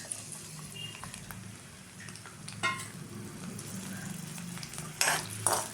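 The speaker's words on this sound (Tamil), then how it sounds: "வெங்காயம் நல்லா வதங்கட்டும்" Onions sautéing in a pan for a vendakkai and carrot sambar, a quiet steady sizzle with occasional utensil clinks and scrapes, the sharpest near the end.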